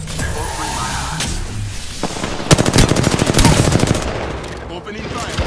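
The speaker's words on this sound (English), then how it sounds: "Opening fire." Rapid automatic gunfire bursts in the battle royale game Apex Legends, loud and dense with rattling shots, alongside game sounds and brief voice lines.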